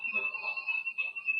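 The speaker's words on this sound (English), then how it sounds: "Something sets off the alarm inside Britt's house" An alarm sounds inside a house as a steady, piercing high electronic tone held throughout, with muffled talk and movement beneath it.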